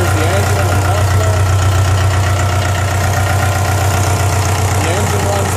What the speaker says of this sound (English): The engine runs pretty well.